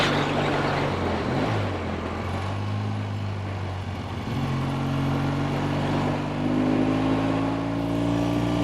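A restored 1964 Triumph Bonneville T120 motorcycle riding along, its engine note dropping and rising steadily as gears shift, with a continuous loud drone and no talking.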